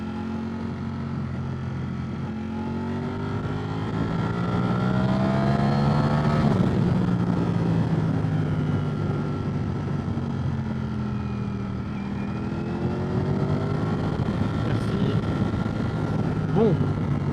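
Ducati Streetfighter V4S 2024 motorcycle engine running steadily under a rider, a continuous loud growling drone with rising and falling harmonic sweeps as the revs change, and a voice talking over it.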